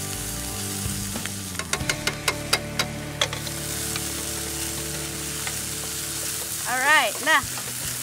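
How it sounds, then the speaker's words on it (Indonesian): Fish meat sizzles in a pan with about two tablespoons of oil over moderate heat, a steady close fry with clicks and clatters of stirring, while a voice speaks briefly near the end. "Sekarang kita langsung tumis daging ikannya."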